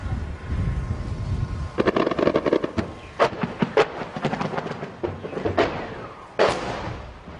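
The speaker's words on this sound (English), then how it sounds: "as you can probably hear, there's heavy fighting just up ahead" Heavy fighting near the front line during the siege of Misrata in Libya, with booming blasts and rumbling bursts of gunfire and shelling from up ahead, loud and continuous with no voices.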